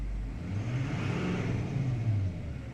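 A pickup truck's engine idles steadily at low pitch, a continuous mid-level rumble with no talking over it.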